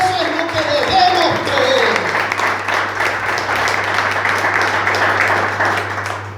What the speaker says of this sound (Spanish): ¿Cuánto le dan un aplauso a Dios?